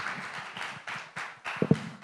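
Audience applause rings out at a summit as a guest joins on stage, a brief run of steady, rhythmic claps in a hall.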